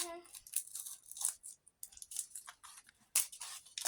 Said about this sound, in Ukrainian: Тут у нас ось такий дуже прикольний пакетик. Відкриваємо.